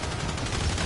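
Dense, continuous gunfire from a PS4 shooter, a loud rattling burst with no clear gaps between shots.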